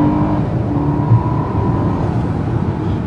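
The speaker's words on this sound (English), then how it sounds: "So we are now going to do the acceleration test. It's a little bit of wheel spin" 2014 Mercedes S500 with 455 PS accelerating hard with a little wheel spin, a steady loud engine roar and drone heard from inside the car for a few seconds.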